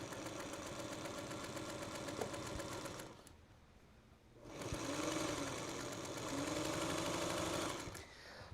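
A sewing machine stitches log cabin quilt blocks in a steady, rapid mechanical whir, running continuously, pausing briefly, then resuming at a slightly different pace, close and fairly loud.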